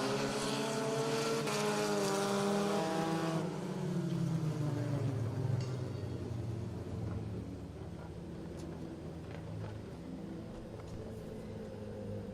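Street stock race cars at Riverhead Raceway roar past, engine pitch sweeping downward as the pack passes, then fading into a quieter, distant drone of engines around the oval.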